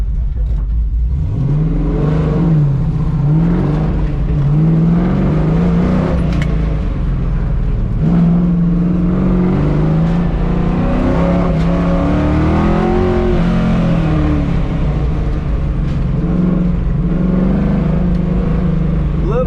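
A car on an SCCA autocross course revs and accelerates repeatedly, with the engine note rising and falling loudly as it climbs through the gears, while a voice talks over it.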